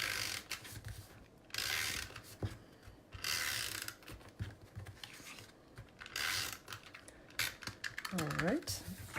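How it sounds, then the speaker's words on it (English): A small snail tape-runner pressing adhesive onto a panel of Highland Heather cardstock, heard as bursts of clicky ratcheting rolls with pauses between, close and fairly quiet, with brief voice sounds mixed in. "just using a little snail to do that"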